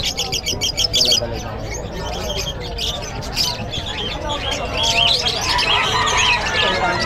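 Lovebirds, parakeets and cockatiels at a busy pet market chirp and tweet in a dense, continuous chorus of overlapping calls, loud and close, with people talking underneath.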